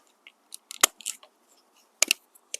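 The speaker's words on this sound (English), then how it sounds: "So we're going to punch us a hole in the side of our main line." A hole punch bites into the plastic main line of a drip irrigation setup, giving a scatter of sharp, close clicks and snaps in two brief clusters with quiet gaps between.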